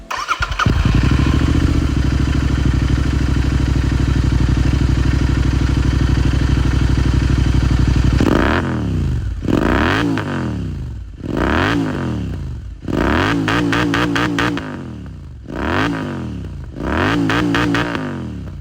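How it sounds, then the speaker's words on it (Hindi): A modified Royal Enfield GT650 motorcycle idles with a loud, rough exhaust note, then revs hard in repeated sharp bursts that rise and fall. "आप लोग सब बहुत देर से इसका एग्जॉस्ट नोट, तो मैं वो सुनाता हूँ।"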